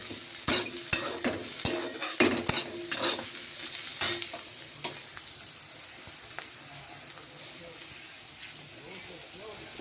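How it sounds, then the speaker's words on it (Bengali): Food frying in a home kitchen pan, a steady sizzle under sharp clinks and scrapes of a spatula stirring during the first half, then fading to quieter sizzling, close by, with someone speaking over it. "তো ভাজাটাও প্রায় হয়ে আসছে, এখন নামিয়ে দেবো"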